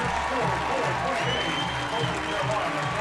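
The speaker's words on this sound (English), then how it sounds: "listen to this crowd" Football stadium crowd at a Troy college game cheering and applauding at the end of the first half, a dense, steady roar filling the space with broad, continuous noise and no distinct voices standing out.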